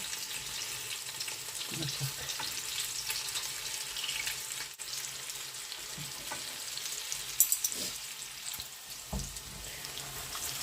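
Steady sizzling of meatballs frying in a pan, with a few soft scraping and tapping sounds from turning them with a fork, no talking.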